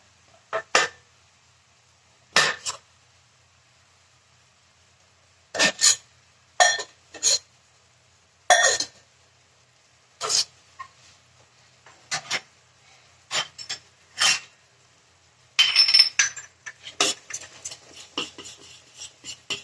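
Cream and milk are added to a pan while making sesame-jaggery barfi without khoa or ghee, heard as a series of sharp, separate spoon-and-metal clinks and scrapes spaced a second or two apart, with a denser scraping burst near the end.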